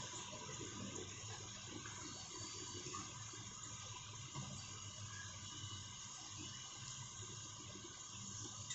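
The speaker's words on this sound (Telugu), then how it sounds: "కరివేపాకు కూడా మంచిగా వేగుతుంది" Curry leaves fry in hot oil for a chicken pickle, giving a steady, even sizzle and hiss that runs without a break for the whole stretch, with no voices.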